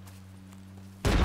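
A single heavy cannon blast from Red Dead Redemption 2 bursts in suddenly and loudly near the end, right after a low steady hum.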